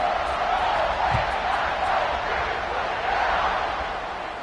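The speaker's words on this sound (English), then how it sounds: "They're set to kick it off, and this crowd now ready to get behind them." A stadium crowd in the College Football 26 video game roars at kickoff, a steady loud wash of cheering that holds throughout and eases slightly near the end.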